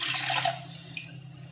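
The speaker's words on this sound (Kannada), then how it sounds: "ಒಂದು ಸ್ವಲ್ಪ ನೀರು ಹಾಕ್ತೀನಿ" Water is poured into a mixture of ground rice, sago and coconut for coconut sweets, giving a soft splashing trickle over a low steady hum, brief and fairly quiet.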